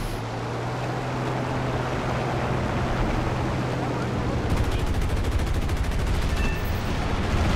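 Rapid 20 mm cannon fire from a Bf 110 in the War Thunder combat flight game rattles out in dense continuous bursts under a loud roar of engine and wind, growing heavier toward the end.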